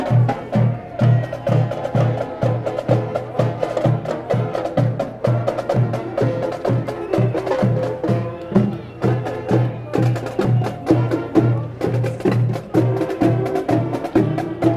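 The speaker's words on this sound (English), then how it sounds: "This is the Estes Park High School Marching Band." The Estes Park High School marching band plays in an evening glow parade in Estes Park, Colorado, with a steady, loud drum cadence pounding under sustained brass and wind tones, fairly close.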